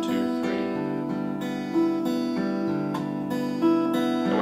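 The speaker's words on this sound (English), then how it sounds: "practice just the right hand picking this picking pattern" Acoustic guitar fingerpicked in a steady 3/4 pattern, thumb and fingers rolling through the strings in an even, repeating arpeggio, sustained and moderately loud with no voice.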